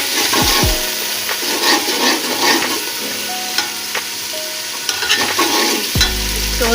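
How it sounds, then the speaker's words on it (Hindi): Ingredients for aloo matar pulao fry in a pot, a steady sizzle broken by repeated scraping and stirring strokes of a spoon, close and clear with no talk. "इसे थोड़ा सा फ्राई करेंगे।"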